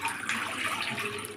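Half a litre of milk for homemade chocolate ice cream pours steadily into a cooking pot, a continuous close liquid splash and gurgle with no talking.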